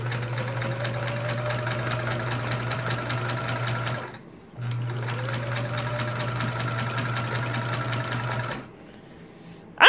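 A sewing machine binds a quilt, its steady rapid stitching running close and loud in two long bursts with a short pause between them and a stop near the end.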